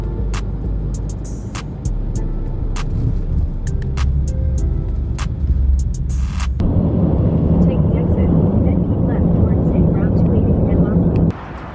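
An airliner in flight gives a loud, steady cabin roar with a deep engine rumble, with clicks and handling noises at first and a voice speaking over the drone.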